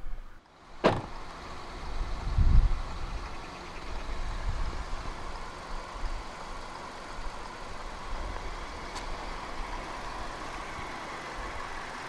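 A 2015 Hyundai i20 1.2 SE runs at a steady idle, a constant mid-level hum broken by a sharp click and a dull thump near the start and a faint tick later on.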